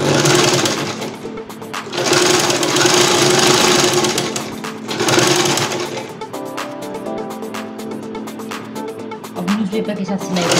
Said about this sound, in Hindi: ये देखिए हमारी जो मशीन है बीच बीच में सिलाई छोड़ रही है